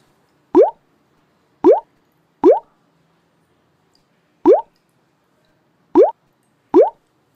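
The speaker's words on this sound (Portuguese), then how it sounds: "É, José, agora nós vamos colocar a água aqui dentro." Water goes into a container in six separate, distinct plops, each a short bright bloop rising in pitch, spaced irregularly over quiet silence, close and clear.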